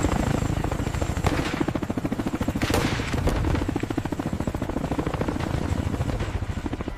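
Heavy twin-rotor Chinook helicopter thumping in a fast, steady rhythm, loud and close, with a roaring engine whine underneath.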